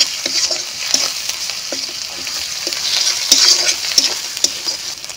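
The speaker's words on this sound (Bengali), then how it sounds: "এখন আমি মশলাটা ভালো করে কষায় নেব।" Spice paste with turmeric powder being fried and stirred in a pan, a close, loud sizzle broken by regular scraping strokes of a spoon about once a second, with no talking.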